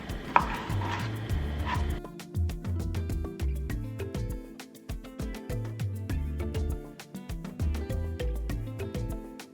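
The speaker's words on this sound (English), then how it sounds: "We're going to start by chopping out bell pepper." Rapid knife chopping of bell pepper on a cutting board, steady rhythmic taps close up, with a brief clatter at the start and faint background music.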